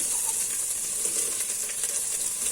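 Onions frying in suet in a pan while being stirred, giving a steady bright hiss and crackle with faint scraping, continuous and close, with no talking.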